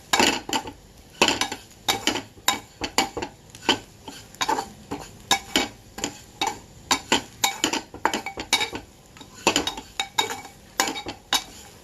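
Sorghum semolina dry-roasting in a pan for upma, marked by a quick, uneven rhythm of loud ladle scrapes and clinks against the metal, close up and without talk.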